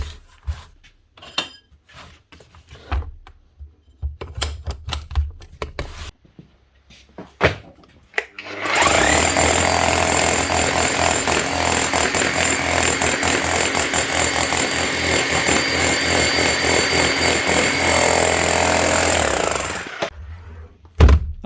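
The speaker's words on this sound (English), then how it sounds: "Up and hammering again, like you should. Bosch GBH 8/45D." Bosch GBH 8/45D demolition hammer hammering after a grease fix, a few scattered knocks and clatters, then a loud, steady, continuous rapid pounding for about eleven seconds before stopping.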